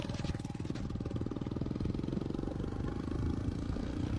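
A Bullet motorcycle engine idles close by with a steady, rapid thumping beat that holds an even rhythm throughout, loud and unaccompanied by speech.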